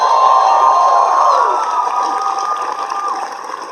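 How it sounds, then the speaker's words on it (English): A large crowd at the Bethesda E3 2018 press conference cheers and whoops loudly, with dense sustained shouting and some clapping that slowly eases. "Another round of applause, please,"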